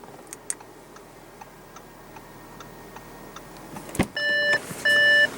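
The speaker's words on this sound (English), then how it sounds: "I'm going to go ahead and turn on the lights and the hazards too" Hazard lights on a 2016 Audi A6 3.0 L turbo diesel V6 ticking in a regular, quiet clicking rhythm inside the cabin, followed near the end by a thud and two loud electronic chime tones.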